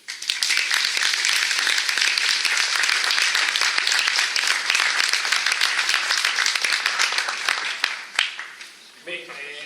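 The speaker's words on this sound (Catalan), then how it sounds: "jo crec que anem a aplaudir, però no a mi, sinó a Eduard" Sustained audience applause fills a tribute event in Benimaclet honouring Eduard Buil, a dense steady wash of many hands clapping for about eight seconds before thinning out as a voice begins at the end.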